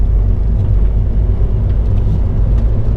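A modified Ford Transit Connect camper van, the 75 horsepower model, driving along with a steady low engine drone and road rumble heard from inside the cabin.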